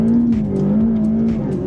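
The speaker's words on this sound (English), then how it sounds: "And you hear that turbo, how it just like..." Ferrari F8 Spider with a turbocharged engine, driven in race mode on an open road, holds a loud, steady engine drone with rich layered harmonics while it accelerates, close up and continuous throughout.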